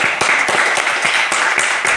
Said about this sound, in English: Round of applause, second founder up.